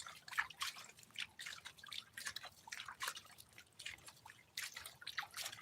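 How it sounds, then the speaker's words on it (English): Water splashes and drips into a super sluice in repeated soft bursts, a gentle irregular trickle and spatter that is fairly faint and close by, with no talking. "I'm just splashing the columns into the super sluice."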